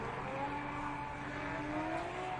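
A drift car warms its tires at a Formula Drift Texas PRO2 event, its engine a steady, fairly distant drone that rises slightly in pitch toward the end.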